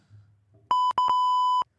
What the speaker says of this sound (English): The buzzer. We can't say that word on here.